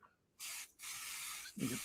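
A spray paint can hisses in two bursts, a short one and a longer one, with a brief gap between them, followed by a faint thump.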